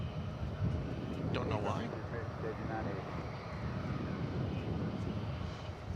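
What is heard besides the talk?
airliner landing at DFW Airport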